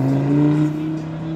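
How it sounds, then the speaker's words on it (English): A Lamborghini engine drones loud and steady in a brief burst as the car pulls away, its low tone easing slightly as it moves off. "There goes the Lamborghini."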